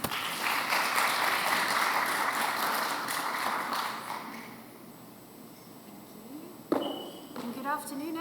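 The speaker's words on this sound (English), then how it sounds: "Please give her a big round of applause." Applause from an aesthetics conference audience welcoming a speaker, dense and steady clapping for about four seconds before fading out, followed by a few scattered sounds and a voice speaking at the end.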